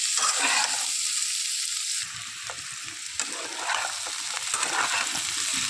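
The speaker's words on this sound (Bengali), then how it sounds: "ভালো করে কষিয়ে নিতে হবে তেলের সঙ্গে।" Pumpkin stir-fries in hot oil in a pan, a continuous crackling sizzle broken by scraping stir strokes, close and fairly loud with no talking.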